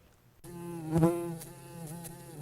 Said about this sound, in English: These bees are fattening up for winter in the Bee Biology and Systematics Laboratory.